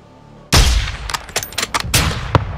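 Gunfire in Call of Duty: Modern Warfare 2 (2022) on Xbox Series X: one loud, close shot bursts out of near silence, then several sharper shots and cracks follow in quick, irregular succession.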